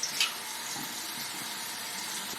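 A shower runs cold water in a steady broadband hiss, close and continuous, with a brief splash at the start and no voices.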